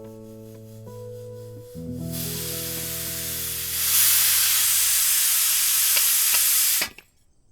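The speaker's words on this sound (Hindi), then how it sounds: "शुक्र है भाप निकल गई" Steam hisses loudly out of a release in a Hindi film scene. A low tonal hum gives way to a strong, steady rushing hiss that swells louder midway, holds for several seconds and then cuts off abruptly.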